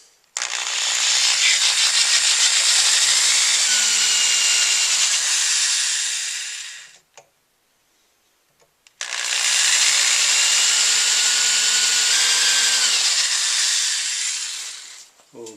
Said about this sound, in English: Now I'm just going to drill these out a little bit.